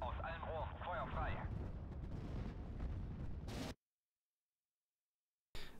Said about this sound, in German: Raketenwerfer kann eingesetzt werden. Aus allen Rohren,